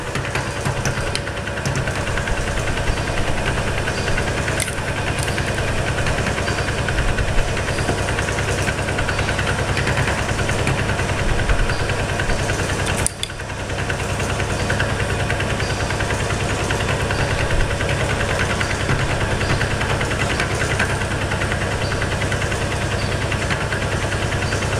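A 1-inch (25 mm) milling cutter chunks through metal while machining a taper on a heavy duty steady rest, a loud continuous grinding drone with rhythmic knocking and a brief dip midway.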